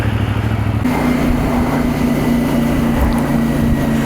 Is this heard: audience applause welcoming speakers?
no